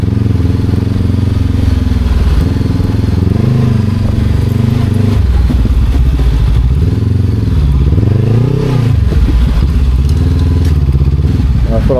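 A motorcycle ridden through Bali rumbles loud and close, its engine note rising and falling through several rev-ups and gear changes, with wind buffeting and occasional clatter over the continuous drone.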